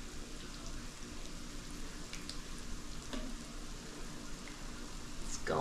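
Fresh garden squash fries in oil at 350 degrees, giving a soft, steady sizzle and crackle that swells louder toward the end.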